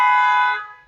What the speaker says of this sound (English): There's a honk for confirmation.